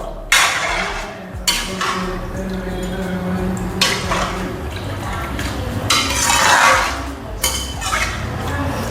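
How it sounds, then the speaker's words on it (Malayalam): A spoon stirs semiya payasam in a pan, giving close clinks and scrapes of metal against the pan with soft liquid sloshing. Occasional louder clatters punctuate the stirring. "നല്ലതുപോലെ നമുക്ക് ഇങ്ങനെ മിക്സ് ചെയ്ത് കൊടുക്കണം"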